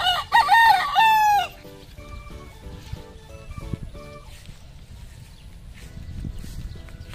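A Thompson White gamefowl rooster crows loudly once near the start, then fades into a quieter outdoor background with faint rustling and low noise.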